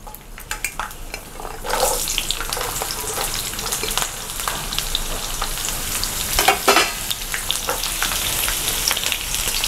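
Small onions and garlic sizzle and crackle loudly in hot oil with mustard seeds for a South Indian vatha kulambu, with a steady frying hiss, stirring scrapes in the pan and occasional sharp pops.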